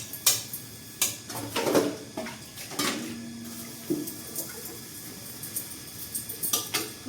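Dishes, pots and pans being washed at a sink after cooking, with irregular clinks and clanks of metal vessels, occasional running water and scrubbing, close by and no talking.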